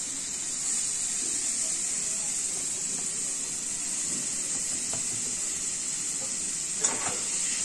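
Chopped carrots frying with onions in a pan for chicken spring rolls, a soft continuous hiss of oil with faint occasional stirring and one small clink near the end.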